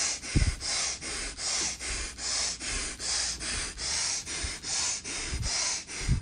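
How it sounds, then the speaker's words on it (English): Rapid pumping breaths in a pranayama exercise, a close and even rhythm of about two forceful breaths per second that keeps going without a break, with occasional deeper snorting exhales. "Breathe as quick as you can this last several moments of pumping"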